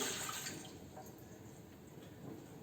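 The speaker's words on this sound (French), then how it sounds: "On commence par l'eau, 300 ml." Water poured from a measuring jug into a bowl of bread dough ingredients, a brief soft splashing pour that fades quickly, close and quiet with no talk.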